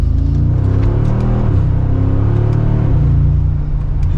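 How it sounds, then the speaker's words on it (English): A Mercedes-AMG G63 V8 accelerates hard in second gear on the road, a deep, loud, steady engine drone with rising harmonic tones heard from inside the cabin, no voices over it. "It sounds very healthy for that V8."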